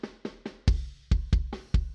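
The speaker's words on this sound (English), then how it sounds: "This is a kick drum." An acoustic kick drum, recorded as an isolated track for an industrial rock song, thumps in a quick irregular pattern of about ten close, punchy hits with short decays and no other instruments.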